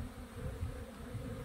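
A spring apiary in April, with honey bees set out from the winter bee house making their first cleansing flights, gives a low, continuous, moderately faint swarming hum that wavers slightly in loudness.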